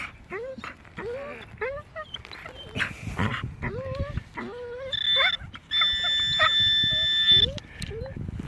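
A dog barks and whimpers in short, repeated yelps at close range, with a brief high metallic ringing tone partway through.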